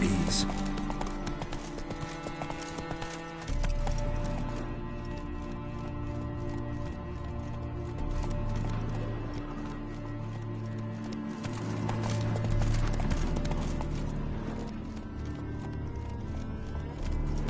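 A horse in The Witcher 3: Wild Hunt clip-clops steadily at a brisk pace, with occasional snorts over a layered game soundscape of music and ambience.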